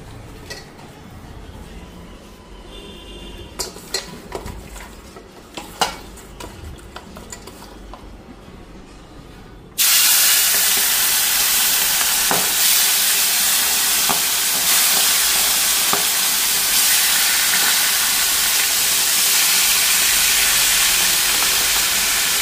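Salt-rubbed fish goes into a hot pan: after quieter kitchen clatter, a sudden loud, broad sizzle starts and holds steady and close.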